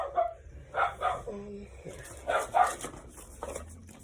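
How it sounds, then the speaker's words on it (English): A dog indoors in a trailer lets out several short barks and yips at moderate loudness. They come in two quick pairs with brief gaps between, over a soft background hum. "sorry, the dog's being a jerk"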